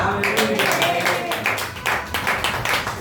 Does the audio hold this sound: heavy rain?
no